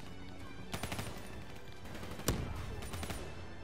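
Gunfire in Call of Duty: Black Ops 3, heard as short clusters of sharp shots and bursts, one louder crack near the middle, over a low game background.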